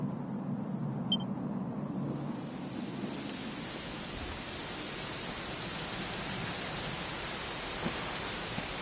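Rain in Dragon Quest XI fades in and settles into a steady, even hiss that fills the rest of the clip, dense and unbroken.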